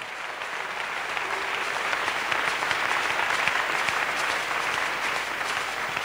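A church congregation claps steadily and continuously throughout, dense applause filling the space at an even loudness from start to finish with no talk over it.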